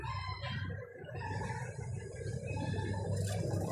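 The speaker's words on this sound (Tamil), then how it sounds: "பக்கத்து கம்மையில் கோழி கத்துது." A chicken calls from a neighbouring field, a faint distant crowing and clucking over steady low outdoor background noise, with no one talking.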